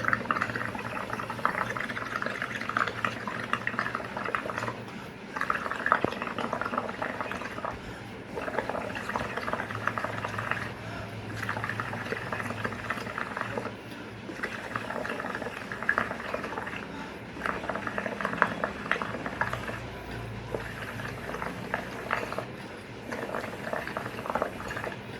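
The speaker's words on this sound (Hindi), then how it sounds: "और इसी स्ट्रॉ को मैं सीधा इस वाटर में लेके जाऊँगा।" A straw blows bubbles through water mixed with Amway dishwashing concentrate, building foam. The bubbling is a continuous, close gurgle that swells and eases in bursts for about twenty-five seconds, with brief pauses for breath.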